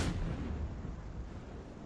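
Naval gun salvo fired at an Ibuki cruiser in World of Warships, a single heavy boom at the start followed by a long rumbling decay, fairly faint and with no talk.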